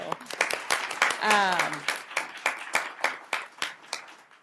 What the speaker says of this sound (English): I just wanted to give you guys a round of applause for everything that you do.